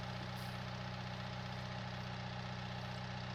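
A tractor engine idles in Farming Simulator 19, a steady low droning rumble that stays constant and loud throughout with no other sounds.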